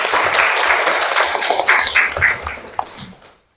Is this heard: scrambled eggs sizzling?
no